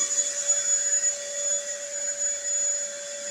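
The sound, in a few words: 10 amp vacuum cleaner running on inverter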